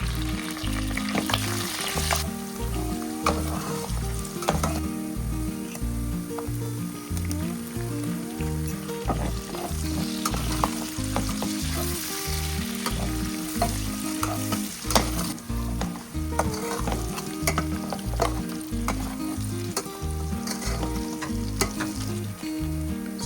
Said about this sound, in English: The fish is well fried at this point, so I'll be dropping it and adding the locust beans to it.